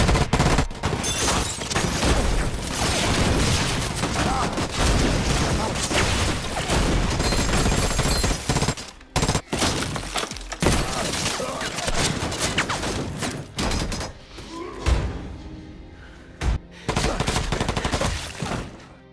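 Rapid bursts of gunfire from a film shootout, an attack on a police station, crackle almost nonstop, dense and loud, dropping briefly to quieter gaps before the shooting resumes.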